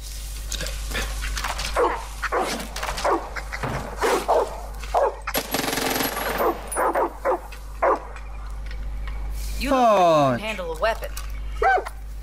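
Dog in the video game Far Cry 5 giving short yips and whimpers over steady game background hum, while someone talks almost continuously over it and a character's voice cuts in near the end.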